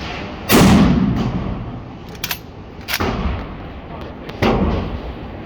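A Schmidt Rubin 1911 Swiss service rifle fires several loud, sharp reports spaced a couple of seconds apart outdoors, each with a short rumbling tail.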